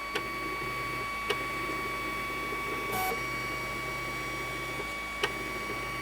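A newly unboxed open-frame 3D printer runs with a steady motor hum and faint whine, punctuated by a few sharp clicks and a short burst of higher-pitched stepper noise, moderately quiet and alone.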